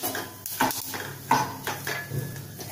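A utensil clatters and scrapes against a pan while food is stirred and sautéed with sesame powder for a Marathi side dish, giving a few irregular metallic knocks over low background noise.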